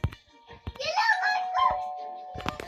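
A doorbell chimes with a ringing two-tone ding-dong while a voice chatters close by.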